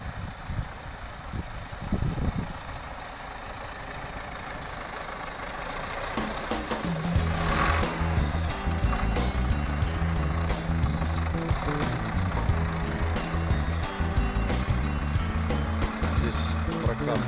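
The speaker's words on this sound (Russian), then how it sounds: "Вот трактор чистит снег," A tractor clears snow from an ice path beside a pine-lined walking trail, its engine holding a steady low drone that swells after a few seconds and runs on loud and continuous, with wind noise around it.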